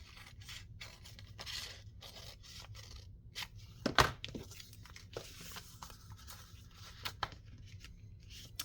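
Paper being trimmed for a junk journal pocket, soft scraping and cutting strokes with one sharper snip midway and a few lighter cuts after, quiet and close in a still room.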